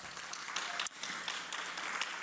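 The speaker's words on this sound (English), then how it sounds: "Ruchira Gupta, please give her a round of applause." Audience applause at an award ceremony, a steady dense wash of clapping from a crowd lasting the whole stretch with one brief dip midway, fairly faint.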